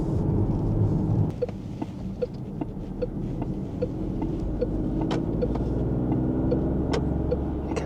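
A 2026 Peugeot 5008 1.2T hybrid car accelerating on the road, heard from inside the cabin as a steady, loud low engine and road rumble that holds evenly throughout, with small knocks and clicks scattered over it.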